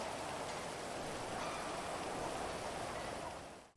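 Steady rain hisses continuously in the video game GTA 5, an even wash of falling water that fades out at the end.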